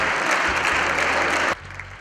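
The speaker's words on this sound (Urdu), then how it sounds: "ہال تالیوں سے گونج اٹھا" Applause fills a hall at a university convocation for a gold medal award, a dense loud burst of clapping that cuts off abruptly, leaving a quiet room tone.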